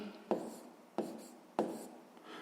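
A pen scratches out numbers during a sixth-grade math exercise, three short stroke bursts at even intervals, close and quiet with no talking.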